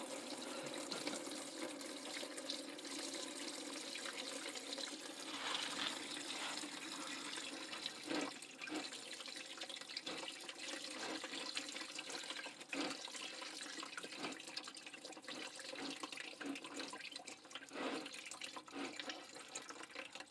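Coolant drains from a Ford Festiva into a drain pan, a faint continuous trickling splash with small gurgles, steady and unbroken with no voices.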